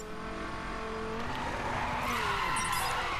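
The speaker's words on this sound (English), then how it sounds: "I'll do a finishing drift here." Car drifting through a finishing slide in the racing game The Crew, a steady engine drone with rising, sliding tire squeal that builds toward the end, loud and continuous with no talk.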